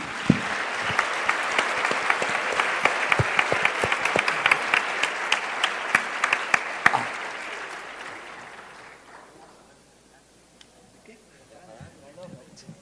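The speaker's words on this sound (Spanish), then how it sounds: "Un aplauso para ellos." Audience applause at an alumni gathering, dense clapping from a room full of people that holds for several seconds, then thins out and fades to scattered claps and quiet room noise.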